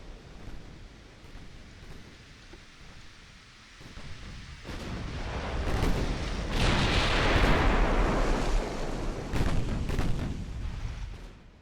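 Naval artillery from warships in the Ultimate Admiral Dreadnoughts game booms repeatedly, with several deep blasts and rumbling, surf-like roar swelling over the middle and then tapering, no voices.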